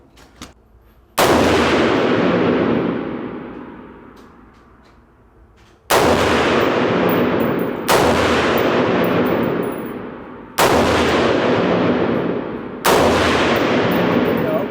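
Semi-automatic rifle chambered in 5.56 firing single shots outdoors: five loud, sharp reports spaced a second or two apart, each with a long decaying echo.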